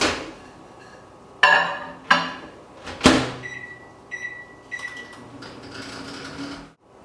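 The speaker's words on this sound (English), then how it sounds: "Now let's put it in the microwave." A microwave oven being loaded with chicken and cheese taquitos: a door thuds shut, a few sharp clunks and button beeps follow, then a low hum as heating begins.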